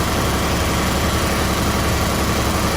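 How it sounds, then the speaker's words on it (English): A Kubota RTV X1140 utility vehicle's engine idles in neutral in 2-wheel drive, a loud, steady, unbroken drone heard close up with no voices. "All right, so got it running. I have it in neutral, 2-wheel drive."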